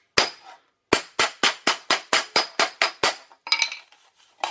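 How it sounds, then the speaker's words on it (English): A hammer striking a TIG butt weld on thin sheet steel to flatten it, about a dozen sharp metallic clanks in a steady, fast rhythm, close and loud, ending in a few lighter scraping taps. "See, I've just flattened that weld out on the end."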